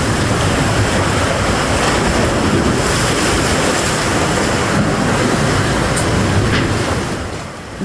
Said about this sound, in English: Waves hammering Margaritaville in Montego Bay, St. James.